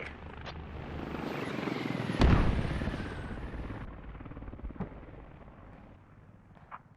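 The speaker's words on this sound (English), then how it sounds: "The helicopter was being shot at." A helicopter in the military shooter game Squad thrums steadily, its rotor drone loud and continuous, while a sharp blast or gunshot punctuates the middle and a few distant cracks follow.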